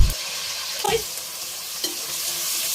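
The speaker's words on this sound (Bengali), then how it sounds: "আমি এখন পেঁয়াজগুলো গোল্ডেন ব্রাউন করে ভেজে নিচ্ছি" Chopped onions fry slowly over low heat in a pan, cooking toward golden brown, with a soft continuous sizzle broken by a few scraping stirs of a spoon.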